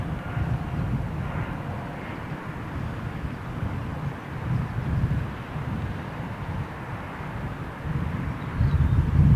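A Lufthansa Airbus Neo airliner at Heathrow gives a steady, broad engine roar with buffeting wind across the microphone, swelling slightly toward the end.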